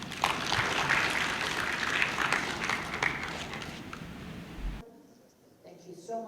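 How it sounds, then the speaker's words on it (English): An audience at a C10 meeting in Lusaka, Zambia, applauds an arriving delegate with broad, continuous clapping for several seconds before it cuts off abruptly and a voice is faintly heard. "let's give him a round of applause"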